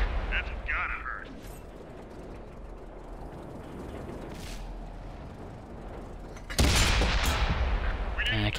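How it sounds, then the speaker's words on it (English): A tank cannon fired at an E-75 heavy tank in a video game, a sudden loud boom late on after quieter rumbling battle noise, with a voice talking at the start. "Take a shot at the E-75."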